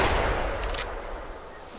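A single gunshot in the hunting video game theHunter, a sharp loud blast at the start that decays into a fading rumble, with no talk.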